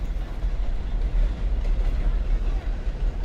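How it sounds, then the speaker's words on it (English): A train roaring past near an outdoor youth soccer match in rain, a steady, loud, low rumble with broadband noise filling the whole stretch, no talk heard over it. "as the train roars past"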